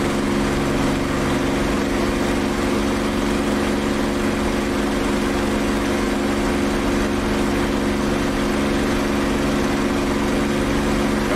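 Steady, loud engine drone of an MB-339 jet in the flight game DCS, a constant unbroken hum with strong low tonal layers and broad hiss, unchanging throughout with no talking.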